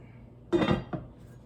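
A lid goes onto a cast iron Dutch oven holding ham and bean soup: one loud metallic clank, then a smaller clink just after, close by in a quiet kitchen.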